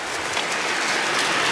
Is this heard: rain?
yes